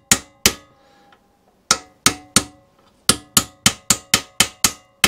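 A hammer taps a socket during restoration of a 1930s Ransomes Atlas Mk1 vintage lawnmower, giving a series of sharp metallic clinks, two spaced apart, then a quicker run of about a dozen close, even strikes.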